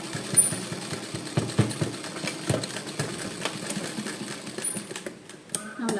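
A sewing machine stitches a back knot flower in short, uneven bursts of rapid needle chatter, each run starting and stopping close by on a heavy section of fabric.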